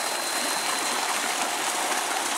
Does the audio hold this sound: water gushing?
yes